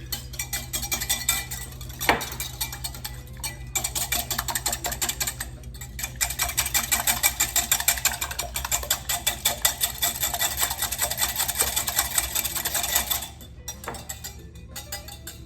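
Eggs whisked briskly in a bowl for a banana pineapple cake, a fast, steady clinking of the whisk against the bowl, close and continuous with a few short pauses.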